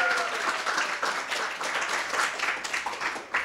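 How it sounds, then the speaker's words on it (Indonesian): An audience at a comedy show claps in a sustained, even wave of many hands, moderately loud and steady, with faint murmurs mixed in beneath the clapping. "Tepuk tangan untuk para perempuan."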